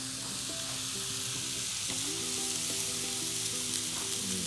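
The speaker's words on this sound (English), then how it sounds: "Hear that sizzle like that." Beef tri-tip sizzles steadily in a hot skillet warmed in the oven, a loud continuous frying hiss with crackling throughout and no voices.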